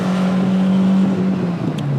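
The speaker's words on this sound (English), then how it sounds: "Let's hear your HKS mushroom filter sound like that." A Honda S800 engine breathing through an HKS mushroom filter revs hard near 8500 rpm, a loud steady high-pitched drone that dips slightly in pitch toward the end, close and continuous with no talk.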